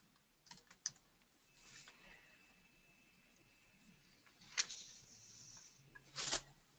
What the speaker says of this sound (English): So as we type that in,